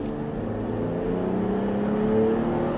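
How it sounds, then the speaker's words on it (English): A 2014 Jeep Grand Cherokee accelerates up through its gears, the steady engine drone rising and shifting in pitch, close and loud inside the cabin with no talk over it. "Now I'm accelerating right through the gears."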